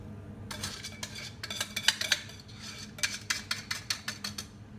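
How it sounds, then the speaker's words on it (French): A spoon or whisk stirs a warm mixture into white chocolate in a bowl for a vanilla mousse Christmas log. Close, brisk bursts of scraping and light clinking come in quick rhythmic runs, with no voices. "je viens verser ce mélange sur mon chocolat blanc"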